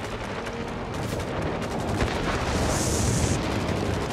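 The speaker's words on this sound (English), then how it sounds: "unfortunately, I got shot by AA guns" Dense, loud barrage of anti-aircraft flak gunfire in World of Warplanes, continuous rumbling booms and bursts filling the whole stretch, with no talking.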